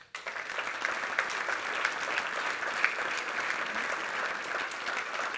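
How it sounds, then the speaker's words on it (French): Audience applause at a Cassis New Year's greetings event, honoring civil security volunteers: steady, dense clapping from a large hall crowd that starts abruptly and holds at an even level, with a few sharper claps standing out. "donc les applaudir."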